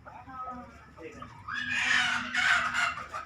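Desi village hens cluck and call nearby, rising into a louder crow-like burst midway, mixed with people talking.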